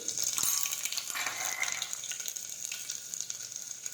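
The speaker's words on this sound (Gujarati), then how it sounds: "હવે આપણે તેમાં ફોલેલું લસણ નાખી દઈશું. રાઈ અને જીરું નાખીશું. હિંગ નાખીશું." Crushed garlic, mustard seeds, cumin and asafoetida sizzle in hot oil as a brinjal, potato and pigeon pea curry is started. The crackling is steady and close, with no talking.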